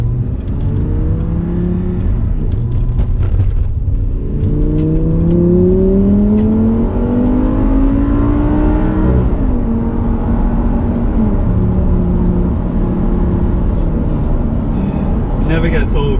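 An Audi R8 V10 accelerates hard from inside the cabin, its engine note climbing through several rising sweeps between gear changes, loud and continuous with road noise beneath.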